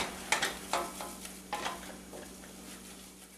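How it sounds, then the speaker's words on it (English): A spoon stirs a hot cheese souffle base in a saucepan, giving several scraping, sizzling strokes in an uneven rhythm that fade toward the end, close and clear with no talking. "Just keep stirring."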